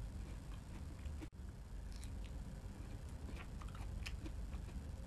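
Someone bites into Dubai chocolate filled with crisp kunafa, making soft, close crunching and chewing sounds, quiet and intermittent, with one sharp crack early on.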